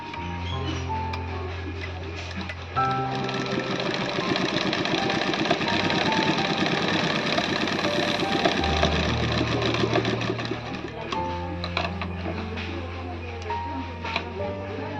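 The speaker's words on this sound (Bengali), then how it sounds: "এবার এর পাশ দিয়ে এখান দিয়ে আমি এবার সেলাই করে নেব।" A sewing machine stitches fabric with a fast, loud mechanical chatter that runs steadily through the middle and slows and hums at the start and end, and no one talks.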